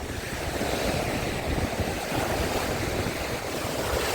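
Heavy sea waves crash and surge in a continuous roar at Odesa's Arkadia beach, with gusting wind buffeting the microphone throughout.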